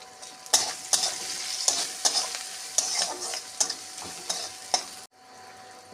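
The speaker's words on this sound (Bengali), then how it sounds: "যা যা ভেজে তুলেছিলাম সোয়াবিন গাজর মটরশুঁটি এগুলো এর মধ্যে দিয়ে একটু হালকা কষিয়ে নেব" Fried soybean chunks, carrot and peas get sautéed in spiced oil in a pan for a vegetable dal, a close steady sizzle punctuated by regular scraping strokes of a spatula, about one per second, ending abruptly.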